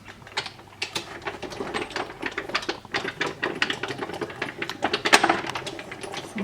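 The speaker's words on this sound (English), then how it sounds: "Simply roll it through, and if you think that you may not have had enough pressure, just go slightly tighter." An embossing folder is rolled through a crossover die-cutting machine, producing a quick, irregular series of close mechanical clicks and ratcheting taps from the turning rollers, fairly quiet throughout.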